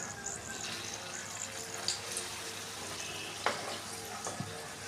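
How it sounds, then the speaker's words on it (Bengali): Quiet, steady sizzling of papad frying two at a time in hot oil in a wok, with a few light utensil clicks; faint and fairly distant. "দুটা দুটা করে ভাজছি এখানে আমরা দুটা দুটা করে ভেজে নিচ্ছি"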